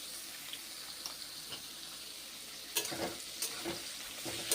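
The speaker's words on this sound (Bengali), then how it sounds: "পটল বেগুন এখন ভেজে নিচ্ছি।" Pointed gourd and eggplant fry in a pan with a steady, soft sizzle, punctuated by a few louder stirring scrapes and clatters near the end.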